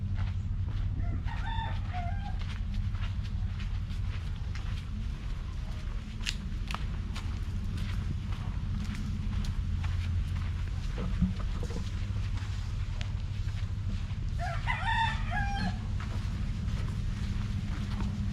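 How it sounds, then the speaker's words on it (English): Roosters crow twice, once early and once later, over a constant low engine rumble, with faint clucking and rustling between the calls, at a farm on Cebu Island. "I see a lot of chickens."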